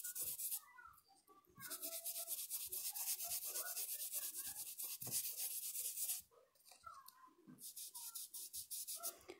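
A brush smudges red fabric paint across cloth while painting a hibiscus, giving soft repeated rubbing strokes in bursts with short pauses between them.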